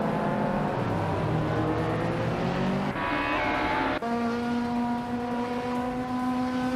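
A 1990 Subaru Legacy R racing car engine in a video game, loud and close, droning steadily with rising revs and shifting pitch, a sharp gear change near the middle, no talk.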